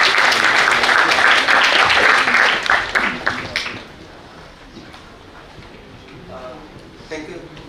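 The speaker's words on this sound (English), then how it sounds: "Please give a round of applause for him." Loud applause from a seminar audience welcoming a faculty speaker, dense clapping for about three seconds before fading into quiet room noise with a faint voice starting near the end.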